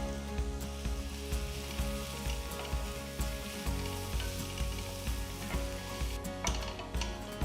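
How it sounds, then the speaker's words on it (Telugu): Chopped onions, slit green chillies and curry leaves frying in hot oil in a pan for a vegetable kurma, a steady close sizzle with faint repeated stirring scrapes throughout, no voices. "చిన్నగా తరిగిన రెండు మీడియం సైజ్ ఉల్లిపాయలు చీల్చిన రెండు పచ్చిమిరపకాయలు కొన్ని కరివేపాకులు వేసి వేయించాలి"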